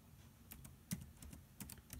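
Keys clatter on a computer keyboard as someone types a web address into a browser: a quiet, irregular run of close keystrokes with one sharper tap.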